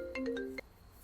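A mobile phone plays a short melodic ringtone of four or five bright tones, quiet and slightly distant, ending abruptly before fading into room hush.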